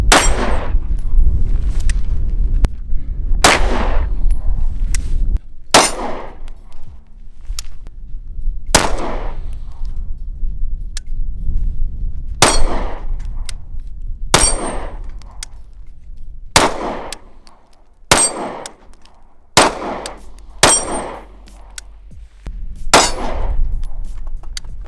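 A metal-frame pistol, a Glock clone, fired at an outdoor range as single sharp reports with uneven gaps between them, sometimes in quick pairs, about a dozen shots in all, close and loud with no talking.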